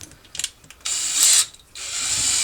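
A power drill spins a Linteater cleaning rod inside a dryer vent: a few ratcheting clicks, then two loud close bursts of high whirring with a short pause between.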